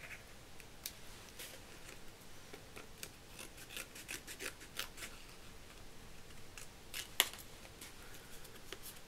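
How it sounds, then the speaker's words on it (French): Scissors trim excess paper from a handmade double shaker Christmas card, giving quiet close snips and rasping paper rubs spread in an irregular rhythm, with one sharper click near the end. "couper ce qui dépasse comme papier"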